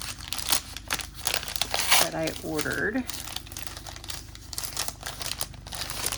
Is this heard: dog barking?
no